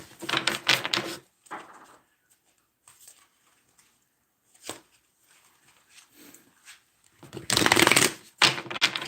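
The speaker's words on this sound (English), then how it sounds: "Let's pull 3 tarot cards." A deck of tarot cards is shuffled in crisp riffling bursts near the start and end, with quieter shuffles and handling between, close with no talking.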